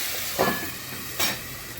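Spice paste being fried (koshano) in a covered pan for a rohu fish curry with ridge gourd and potato gives two short hissing sizzle bursts over a steady low background hiss.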